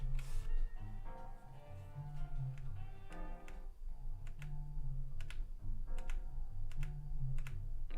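Keys clack on a computer keyboard during a live anatomy drawing session, a close, irregular run of taps and clicks over a low background hum.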